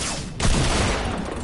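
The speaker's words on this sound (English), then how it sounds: "Hand cannon." Heavy gunfire from a hand cannon in a shooter video game, a loud burst of overlapping shots starting abruptly and continuing as a dense, sustained barrage.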